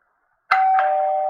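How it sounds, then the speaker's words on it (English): A single bell rung once to mark the time limit at a virtual school sports day, a bright struck ding that rings on with a steady sustained tone, close and clear with no talking. "A bell will be rung to indicate the time limit."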